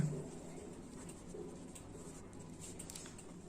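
A pen scratches across paper, writing out a math exam answer in a faint, steady patter of small strokes, quiet and close with a low room hum beneath.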